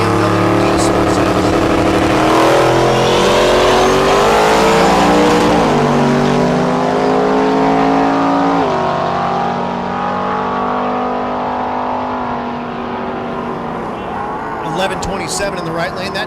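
A BMW diesel car drag racing at Thunder Valley in Noble, Oklahoma, its loud engine roaring and shifting through gears for a long pass, with an announcer talking over the noise and fading slightly toward the end.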